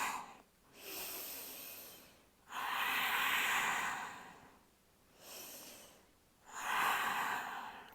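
Slow, deep breaths during a yoga flow, three long airy exhales spaced a few seconds apart, close and clear with quiet gaps between.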